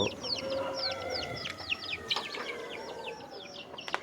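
Native country chickens and chicks clucking and squawking close by as their coop is opened in the morning, a busy run of short repeated calls with a few sharper cries near the end.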